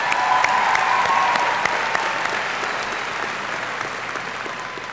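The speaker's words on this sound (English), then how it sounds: "Your parents deserve a round of applause." Audience applause at a high school graduation ceremony: a large crowd claps steadily, full and sustained, slowly tapering off a little over several seconds with no speech on top.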